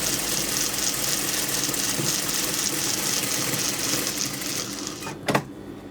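A sewing machine runs steadily, stitching a kameez seam with a constant whirring hum, then slows and stops near the end with a short sharp click.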